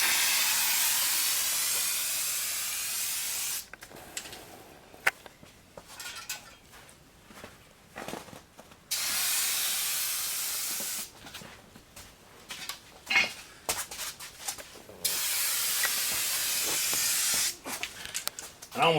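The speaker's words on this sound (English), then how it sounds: "let's see how it goes down with the base coat of primer on first" Rust-Oleum primer sprayed as a base coat onto parts of a 1966 vehicle, loud close hissing aerosol bursts of a few seconds each, separated by quieter gaps with faint clinks and handling noises.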